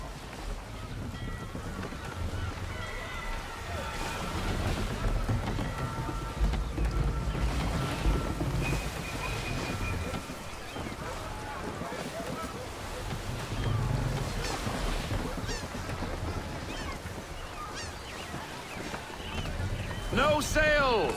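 A sailing ship at sea in the video game Assassin's Creed III, with a steady rush of wind and water against the hull, creaking timbers and ship noises, and voices talking over it throughout.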